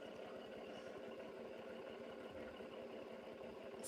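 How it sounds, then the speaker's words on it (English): A John Deere tractor motor idles steadily in a truck from American Truck Simulator, a low, even rumble with a faint knocking pulse, quiet and continuous with no voices over it. "it's got that John Deere tractor motor in it."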